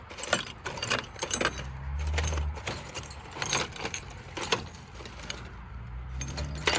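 Small keys and metal nails rattle and clink inside a container as a hand rummages through them, producing a steady run of sharp, close metallic jangles with brief pauses.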